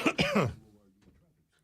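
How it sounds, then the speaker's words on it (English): A short, harsh cough bursts out up close, followed by a brief low throaty rasp that fades into near silence. "Just can't stop coughing."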